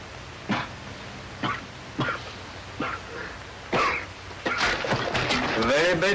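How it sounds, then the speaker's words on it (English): A man coughs repeatedly in a 1940 desert adventure film scene, several separate harsh coughs spaced about a second apart, followed by a louder rough burst. "Very bad cough, my friend."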